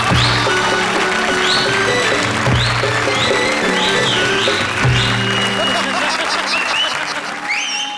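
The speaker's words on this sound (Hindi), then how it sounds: "जोरदार तालियां" A studio audience at the Kapil Sharma comedy show bursts into sustained, loud applause, with dense clapping carrying steadily throughout and music playing underneath.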